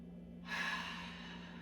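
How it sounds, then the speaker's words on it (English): One long, deep inhalation drawn through the nose and mouth during a stretching and mobility session, close and steady with a soft airy rush that holds to the end. "Nice deep breath"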